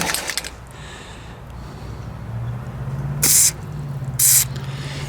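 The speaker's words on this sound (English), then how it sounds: "I might just give her a little spray here anyways." Two short bursts of aerosol lubricant spray hiss on a Stihl MS660 chainsaw clutch, each about half a second, over a low steady hum.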